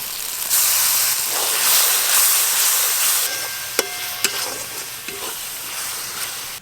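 Ginger, garlic and onion fry loudly with ground coriander, chilli powder, salt and grated tomato for chana masala, a strong sizzle that fades partway through and gives way to several sharp utensil clinks and taps.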